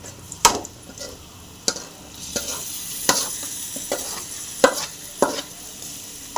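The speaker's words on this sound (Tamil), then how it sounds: "இந்த மசாலாவை இது கூட சேர்த்துடலாம்" Masala being stirred into bitter gourd frying in a pan for pickle, with a steady sizzle and a few sharp scrapes of the spoon against the pan spaced through the stretch; no one speaks.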